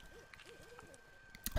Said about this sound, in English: only the occasional crackle of the fire and the hooting of owls interrupted the stillness